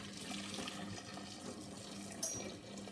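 Running water splashes steadily into a pot, a continuous close-up gushing pour with a faint clink partway through.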